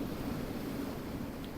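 Wind blowing at a surf beach while fishing for bass, a steady, loud broadband rush buffeting close to the microphone for the brief stretch with no voices.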